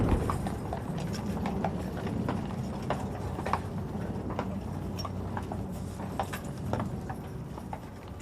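Clip-clop of many horses' hooves as the Household Cavalry escort rides up to the castle at a royal state visit, a steady mass of overlapping hoof strikes under outdoor crowd ambience.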